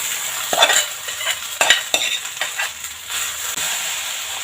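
Broken wheat for upma is stirred into a hot tempering in a pan. A spoon gives a few scraping strokes against the pan under a soft sizzle, with no talking.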